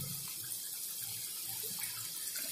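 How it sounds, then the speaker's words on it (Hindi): Sweet mathri dough, also called sakkarpara, frying in hot oil over a low flame gives a steady, bright, close sizzle that holds evenly throughout, with no one talking. "तेल गरम हो चुका है, इसे लो फ्लेम में ही फ्राई करना है।"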